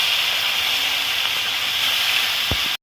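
Steady loud hiss of fish frying in hot oil in a wok, a continuous close sizzle that cuts off abruptly at the end.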